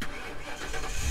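A decommissioned police car's engine cranks and catches, a continuous broadband rumble that grows louder near the end as it fires up, recorded close by.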